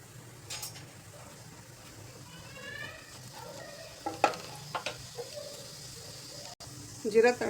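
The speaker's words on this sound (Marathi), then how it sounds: "कढईमध्ये तेल घालायचं आहे जिरं घालायचं आहे" Cumin sizzles softly and steadily in hot oil in a kadai, with a few stirring clicks and scrapes against the pan, close up.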